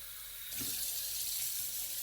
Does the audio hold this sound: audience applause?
no